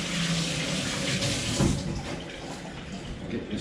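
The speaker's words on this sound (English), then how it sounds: "Quick rinse the hands." Hands rinsed under a running tap, a steady close splashing rush of water lasting a few seconds with no talk, during preparation of BBQ smoked pork ribs.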